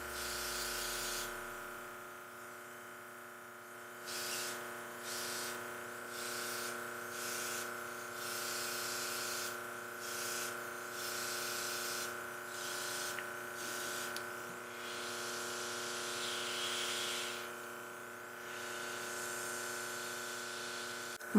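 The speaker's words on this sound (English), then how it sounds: "Spraying so much better now." A Dinair makeup airbrush hisses in bursts against a steady electric hum from its compressor, the spray starting and stopping in short pulses and longer sprays.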